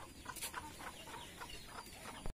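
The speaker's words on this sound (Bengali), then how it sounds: "এগুলা হচ্ছে সোনালী মুরগি" Sonali chickens on a farm give a run of soft, repeated clucks at a fairly low level, steady throughout before cutting off abruptly.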